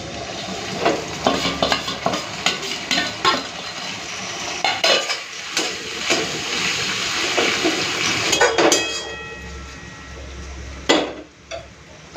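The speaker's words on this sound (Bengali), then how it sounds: "পেঁয়াজটা ভাজা হয়ে গেছে এখন দিয়ে দিচ্ছি আদা রসুন কাঁচা লঙ্কা বাটা" Onions frying in a pan with ginger, garlic and green chili paste added, a sizzle under repeated metallic scrapes and clinks of a spatula stirring against the pot, close and busy, ending quieter.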